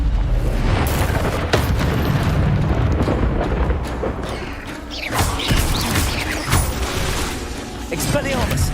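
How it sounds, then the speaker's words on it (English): Fiery Confringo spell blasts boom out in Hogwarts Legacy while exploring a cave maze: repeated loud explosive bursts over a thick, continuous bed of game combat noise and rumble. "Confringo!"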